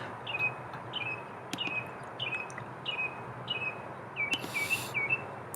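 Birds call outdoors in a steady rhythm, a sharp repeated chirp about every half second to second over a dense hum of background chatter, with a brief brighter burst near the end.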